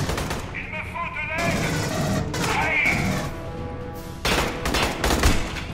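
Automatic turret gunfire in the shooter Aliens: Colonial Marines, bursts of rapid shots and crashing impacts over several seconds, with a voice talking through parts of it.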